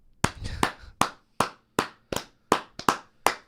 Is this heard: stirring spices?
no